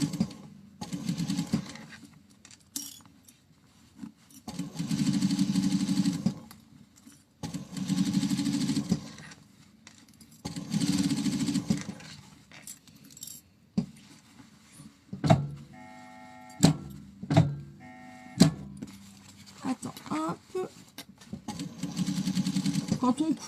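Sewing machine stitching fabric in a circle for a Kachtatête hat, running in several steady bursts of motor whir with pauses between, with someone talking at times.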